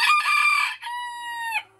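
A Belgian porcelain bantam rooster, about two years old, crows once up close: a bright, clear two-part call with a harsh first phrase and a long sustained second note, then quiet.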